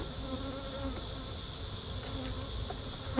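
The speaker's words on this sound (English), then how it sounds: "Let's leave those bees alone." Bees buzz around a hive in a dense, continuous swarm drone, close and steady throughout, with no voices over it.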